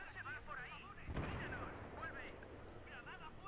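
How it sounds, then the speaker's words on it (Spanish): Grenade blast in a first-person shooter video game match, a single deep muffled boom in the middle under players' continuous radio-style chatter. "Cuidado, tiró una bomba ahí."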